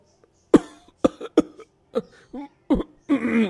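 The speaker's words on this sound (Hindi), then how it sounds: "तो उसे खांसी आने लगती है" A person coughs repeatedly in short, harsh bursts, about seven in a row with brief pauses, ending in a longer throaty rasp, close and loud.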